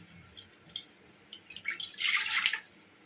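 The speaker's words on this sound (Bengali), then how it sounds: "এবার আমি প্রথমে জলটা দিয়ে নিচ্ছি" Water poured into a cooking pot set on an oven for Puri Jagannath temple style ghee rice, faint trickles and drips building to a brief, bright splashing pour near the end; no talking.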